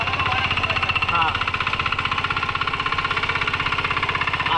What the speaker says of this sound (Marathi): आता समजा ट्रॅक्टर धरतोय तो बघा असं धरतोय